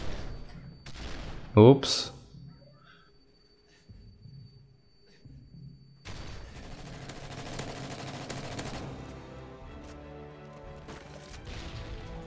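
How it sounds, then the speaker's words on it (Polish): Gunfire in the Call of Duty: Modern Warfare 3 video game during a free-for-all match, a sharp burst of shots near the start followed by steadier game noise, with a player talking over it. "A ten skąd mnie strzela?"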